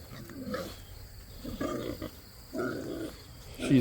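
Several harsh, squealing pig bursts in short separated bouts, fairly close, with a louder squeal at the end.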